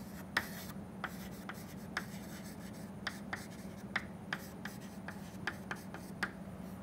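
Chalk or marker writing on a board during an engineering lecture on gas dynamics and shocks, with a steady run of short tapping and scratching strokes, fairly close, over a low constant hum and no talking.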